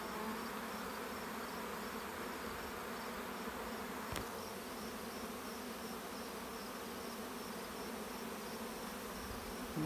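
Honeybees hum in a steady, dense drone around a hive pallet set low to the ground, unbroken for the whole stretch, with one brief sharp click partway through.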